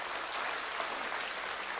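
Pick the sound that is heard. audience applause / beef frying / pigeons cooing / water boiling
audience applause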